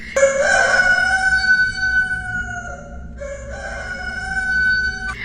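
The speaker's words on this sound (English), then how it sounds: "I'm just going to insert this clip of her running out the door while the rooster's going off" A rooster crows loudly nearby in a long, drawn-out call that rises and holds, then breaks off briefly and starts a second sustained crow, with no talking over it.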